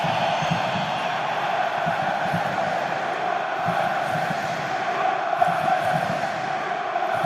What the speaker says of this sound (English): Immense applause and a mighty roar.